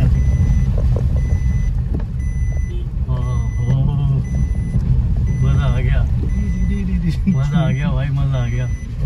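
JCB excavator reversing at a landslide, a repeating electronic warning beep sounding over a loud vehicle engine rumble, with people talking nearby.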